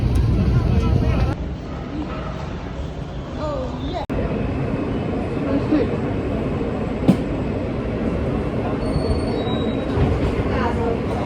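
A crowded New York subway train, the 7 line, rides along with a steady rumble and clatter, a sharp click partway through and faint wheel squeals, while people talk over it.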